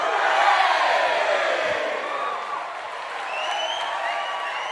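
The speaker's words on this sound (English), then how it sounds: "the crowd is cheering," Large crowd cheering loudly at a celebration, a dense roar of voices with whoops rising at the start and gradually easing off, sustained throughout.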